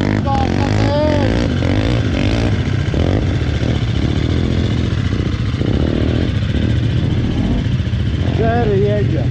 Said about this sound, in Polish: pierwsze odpalenie KTM-a i pierwsza jazda